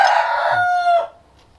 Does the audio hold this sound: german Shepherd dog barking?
no